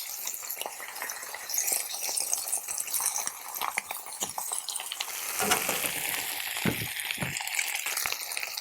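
Bok choy leaves with garlic, salt and pepper sizzle in a hot pan while being stirred, a steady close frying hiss broken by scraping, clattering stirs.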